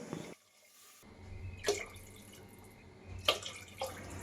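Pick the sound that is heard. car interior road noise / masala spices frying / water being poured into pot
water being poured into pot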